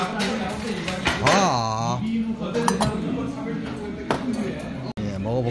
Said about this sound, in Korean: 왕갈비탕 먹어보도록 하겠습니다